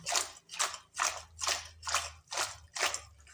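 Seven crisp, evenly spaced chopping thuds of a knife cutting through ridge gourd on a board, steady and close, with no voices.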